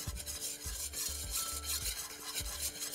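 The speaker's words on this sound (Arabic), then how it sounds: "هاخذ الطحين، هحط كميه مو كثيره، وادوبها في الزبده هذه" Flour being stirred into melted butter in a pan for a vegetable lasagna sauce, rhythmic close scraping strokes repeating about every half second over a light sizzle, with no talking.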